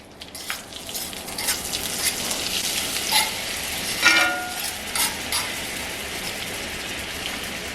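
Butter sizzles in a pan with filet mignon and shrimp, a steady crackling fry broken by a few sharper pops and spatters, close and without talk.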